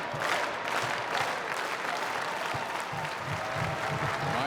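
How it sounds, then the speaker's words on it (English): A large crowd at a Toronto professional wrestling event claps together in an uneven rhythm, loud and continuous, the beats not quite aligned. "These people in Toronto just can't figure out how to get on time with this clap."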